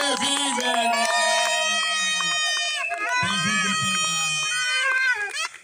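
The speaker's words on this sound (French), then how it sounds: "je vais demander à l'ensemble d'acclamer le couple très fort avec les cris de joie" Wedding guests at a civil marriage ceremony cheer the couple with loud, sustained cries of joy, high ululating and shouting voices layered over a steady crowd roar that carries on throughout.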